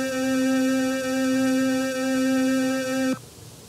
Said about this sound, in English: I guess that's the sound of an organ.